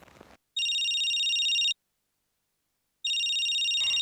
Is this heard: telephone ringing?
yes